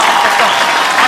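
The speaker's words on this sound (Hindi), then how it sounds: "खड़े होके जोरदार तालियां बजाएं।" A large audience on its feet gives loud, dense applause for a speaker at a leadership event, a steady roar of many hands clapping close by for just over a second.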